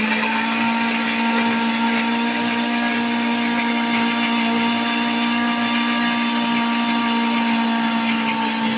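A kitchen blender whirring steadily as it purees carrots with water, a loud, constant motor whine with a strong even pitch and no pauses or speech throughout.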